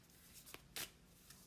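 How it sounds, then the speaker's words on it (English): A deck of cards being shuffled, with a few soft riffles and one brief louder burst of flicking cards, close up and quiet against a still room. "so I'm shuffling these cards"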